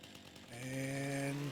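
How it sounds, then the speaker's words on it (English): A chainsaw starts up in the farming video game Farming Simulator 25 and settles into a steady, buzzing engine drone that stays fairly quiet, then eases off at the end. "we'll grab our chainsaw"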